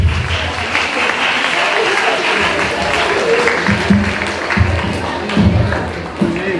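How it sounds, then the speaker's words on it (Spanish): An audience at a school book fair claps steadily for children who have just finished presenting, continuous applause with crowd murmur and some voices underneath. "Fuertes aplausos para los niños que acaban de exponer"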